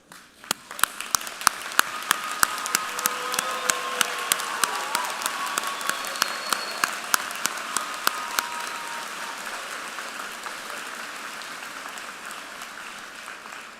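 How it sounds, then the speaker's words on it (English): A large commencement audience applauds first-generation graduates standing at a university ceremony, a broad sustained wash of clapping with distinct sharp claps early on, gradually thinning toward the end. "Will all of our first-generation students please stand for a well-deserved round of applause?"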